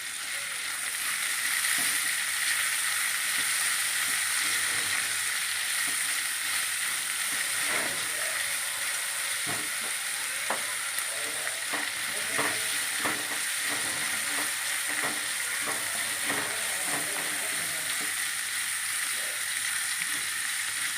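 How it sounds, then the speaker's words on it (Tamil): Onion and capsicum sautéing in a pan for a four-vegetable stir-fry, a steady bright sizzle with scattered clicks and scrapes of stirring throughout, close and fairly loud, with no voices. "இதை நல்லா வதங்கிச்சு ரெண்டு நிமிஷம் வதங்கட்டும்"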